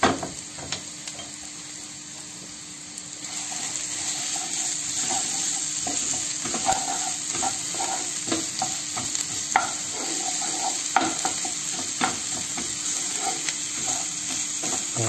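Chili paste sauce for spicy shrimp sizzles and fries in a pan with continuous hiss, while a utensil scrapes and stirs with frequent small clicks and knocks, close and steady.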